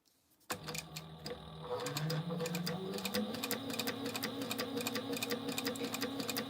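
A Sailrite sewing machine fitted with a narrow presser foot stitches fabric up close, its rapid rhythmic ticking and motor whir rising in pitch as it speeds up and then running steadily.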